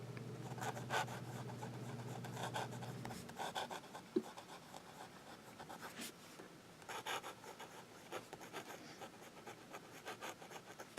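A Jinhao 599 Safari fountain pen scratches across paper in soft, close strokes, with a steady low hum for the first few seconds and brief rubbing bursts afterward.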